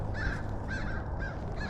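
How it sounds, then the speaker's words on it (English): Several crows caw in repeated harsh bursts from some distance outdoors, a steady low background rumble underneath and no voices. "Got some very upset crows with us"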